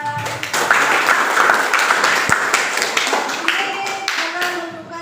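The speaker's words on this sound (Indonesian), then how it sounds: "beri tepuk tangan kepada" A classroom of students claps together in a lively burst with a few sharp individual claps, while voices chatter over and around it and the clapping thins out toward the end.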